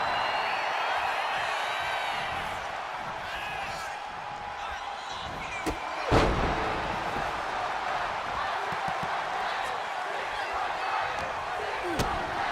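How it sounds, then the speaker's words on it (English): A steady, loud crowd roar chanting 619 in WWE 2K25 during a Rey Mysterio match, with a rhythmic chanting quality, and a few sharp impacts stand out above it. "listen to the crowd chanting for 619"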